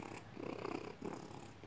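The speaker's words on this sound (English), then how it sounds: "He's my purring kitty." A cat purrs close up, a soft rhythmic rumble pulsing with each breath, quiet and alone.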